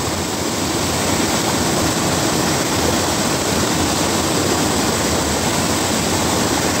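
Torrential atmospheric river rain in Abbotsford, British Columbia, Canada, a loud dense continuous roar of downpour with no pauses, filling the whole scene.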